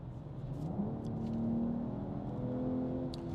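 A BMW M440i Gran Coupe accelerates hard with the gas pedal floored, its engine a steady, loud, rising drone with a climbing tone throughout, heard from inside the car with faint clicks above.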